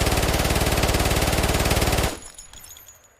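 Full-auto mag dump from a small, lightweight gun with a 33-round magazine in Escape from Tarkov, a loud, close, rapid unbroken stream of shots for about two seconds, then an abrupt stop and a fading echo.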